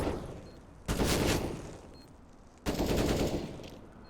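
Two loud bursts of automatic gunfire ring out in a Counter-Strike match on the Nuke map, each volley sharp and sustained for under a second before fading.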